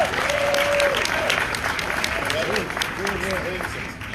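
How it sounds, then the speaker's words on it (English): Audience applause at a Southern Gospel weekend concert in Oxford, Alabama, steady clapping from a crowd with voices and chatter heard over it throughout. "Give her a round of applause"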